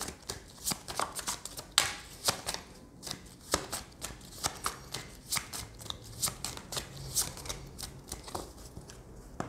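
Tarot cards are shuffled and handled at close range in a quiet room, giving quick, irregular papery flicks and soft slaps in a continuous patter.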